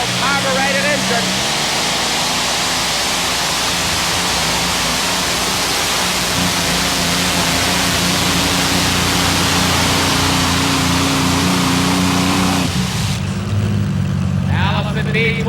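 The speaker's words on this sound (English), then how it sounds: "Here's Richard Whisenant with the Allison V-12 carbureted engine." A World War II Allison V-12 carbureted engine powers Richard Whisenant's Brigadier with a loud, sustained roar and steady low droning tones that shift pitch partway through.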